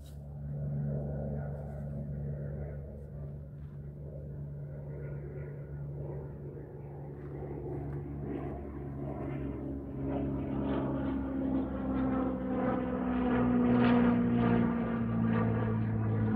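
A small propeller plane, apparently a toy or model avioneta, drones steadily for the whole stretch with a low engine hum and rising harmonic whine that grows slightly louder toward the end, with no talking.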